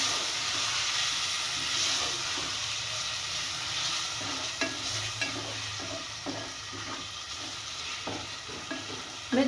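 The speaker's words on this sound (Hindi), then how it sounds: "अब इसमें ये सारे मसाले और टमाटर और अब मैं इन्हें भूनूंगी अच्छी तरह।" Spices and tomatoes frying and being stirred in a pot for arvi gosht, a taro and beef curry, with a steady close sizzle and hiss broken by soft spoon scrapes and stirring knocks, no talking.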